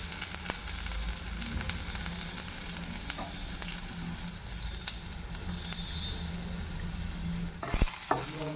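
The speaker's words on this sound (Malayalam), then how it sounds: "അതിനുശേഷം ഒരു പാനിലേക്ക് അല്പം എണ്ണ ഒഴിച്ചിട്ട് കടുകും വറ്റൽമുളകും കറിവേപ്പിലയും അതേപോലെ വെളുത്തുള്ളിയും ചേർത്ത് താളിച്ചെടുക്കുക." Mustard seeds, dried red chillies, curry leaves and garlic frying in oil in a pan for a Palakkad-style horse gram tempering, a dense, continuous close sizzle with crackling pops and a clatter near the end.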